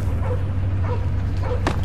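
Cosmo the dog from the Guardians of the Galaxy video game gives a few close, yipping barks and whimpers over a steady low game hum.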